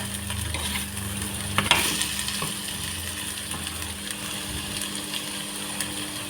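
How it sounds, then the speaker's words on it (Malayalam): A spoon stirs okra curry with chili powder in a hot pan, soft scraping and occasional clinks over a faint sizzle, with one sharper knock near the start and quieter stirring after. "ഇതിലേക്കൊന്ന് മിക്സ് ചെയ്യാം നമുക്ക് നന്നായിട്ടൊന്ന് മിക്സ് ചെയ്ത് കൊടുക്കാവേ"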